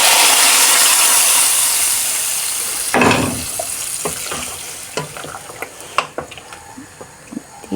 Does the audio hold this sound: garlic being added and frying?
yes